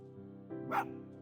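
A fox in Spirit of the North gives a single sharp bark, short and bright, over a soft sustained musical drone.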